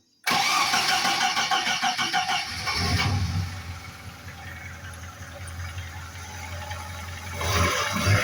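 A VAZ classic car engine cranks and catches at once, then settles into a loud, steady idle that roars briefly again near the end, heard close up.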